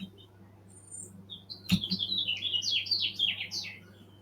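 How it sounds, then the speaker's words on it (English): A bird-chirping sound effect starts with a sharp thump, then a quick run of high, bright tweets and chirps follows for about two seconds over a quiet hum. "I got triggered there by the sound of those birds"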